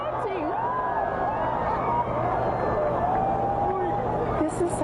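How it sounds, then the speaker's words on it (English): A crowd murmuring and chattering together during a total solar eclipse as daylight dims to a dawn-like dusk: a steady, fairly close babble of many voices with a few brief raised exclamations, no single voice standing out. "And the crowd is reacting"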